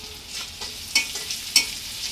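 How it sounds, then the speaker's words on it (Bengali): Bitter gourd slices frying on a gas stove, a soft steady sizzle with a few sharper clicks and stirring scrapes near the one- and one-and-a-half-second marks, close and fairly quiet with no talking. "এই যে করলা ভাজি করবো।"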